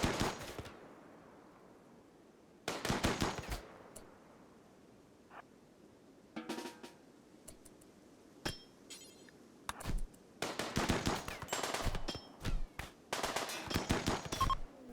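Gunfire in a night pirate ambush in the RimWorld game, bursts of rapid game shots and impacts separated by quiet gaps, denser volleys toward the end.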